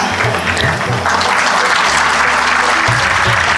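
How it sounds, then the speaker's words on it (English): Loud, dense applause from a crowd at a school annual day prize distribution, continuous throughout, with some low background music or amplified sound underneath. "The sound of the clap should be loud"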